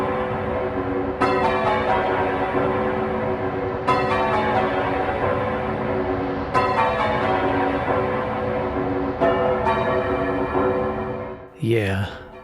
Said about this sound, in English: the boss theme is fairly simple, just an unsettling rhythmic series of bells